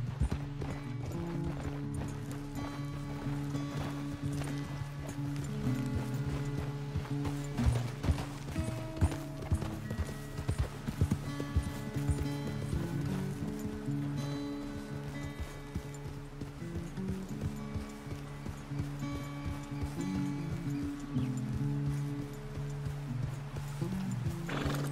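Horse hooves clip-clop in a steady riding rhythm in Red Dead Redemption 2 on a ranch, continuous and moderately close, with occasional snorts and game background music underneath.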